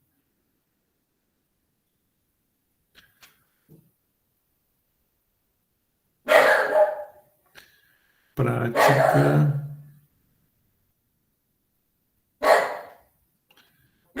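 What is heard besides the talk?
small pet dog barking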